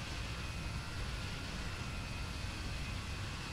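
Airliner jet engines roaring steadily during a parallel takeoff in a flight simulator game, a broad, even rumble with a constant hiss, loud and unbroken with no talking.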